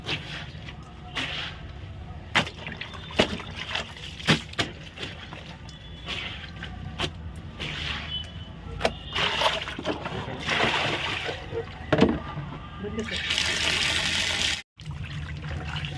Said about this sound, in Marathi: हे बघ कसं पाणी निघतंय